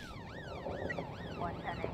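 Police car siren in the This is the Police game, a wailing tone that rises and falls repeatedly, steady and moderately loud, heard alone.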